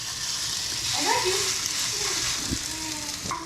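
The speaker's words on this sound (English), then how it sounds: "You want to hear that sizzle" Steady hiss of dumplings sizzling in a hot frying pan, with a few soft scrapes and a faint voice in the background.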